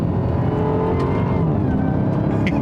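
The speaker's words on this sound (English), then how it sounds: "But I just love that supercharger whine." A 2021 Dodge Charger Hellcat Redeye accelerates on a narrow two-lane road in South Carolina, a steady, loud engine roar with a thin supercharger whine riding over it, continuous and heard from inside the car.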